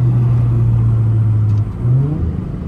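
An Infiniti G35 engine revs briefly during a quick downshift while driving at night, a steady low drone that dips and then swells into a rising whine, heard from inside the car with no talking.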